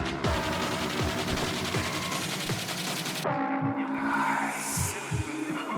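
Rapid bursts of automatic gunfire in the video game Squad, with sharp cracks over a continuous mechanical drone, dense and loud throughout; no talking.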